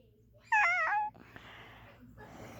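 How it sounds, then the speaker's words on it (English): A pet cat gives one clear, close meow lasting about half a second, followed by quiet room noise. "It is my cat."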